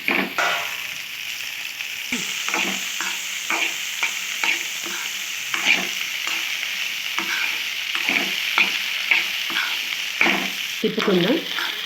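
Spicy okra fry sizzling in a pan, a constant frying hiss with repeated scraping stirs of a spatula, close and steady throughout without speech.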